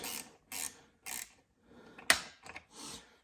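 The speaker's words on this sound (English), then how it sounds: "It's my trusted Eaton ratcheting box wrenches." An Eaton ratcheting box wrench clicks in short, quiet bursts of rapid ratchet ticks with pauses between strokes, working on a Harley-Davidson Low Rider ST license plate mount.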